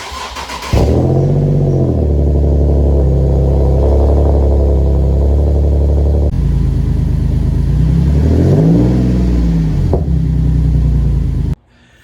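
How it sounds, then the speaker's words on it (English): A Nissan 370Z fitted with a Rev 9 catback exhaust starts up with a loud burst and then settles into a deep, steady idle, rising into a couple of throaty revs before it abruptly cuts off. "I have a Rev 9 catback exhaust"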